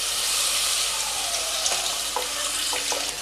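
Water from rinsing the spatula hits frying spice masala with hing for a Bengali dhokar dalna, setting off a loud, continuous close-up hiss with a few faint utensil taps.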